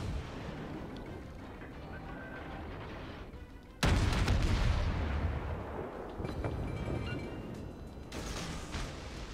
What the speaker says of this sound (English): Gonna open fire at that Kagero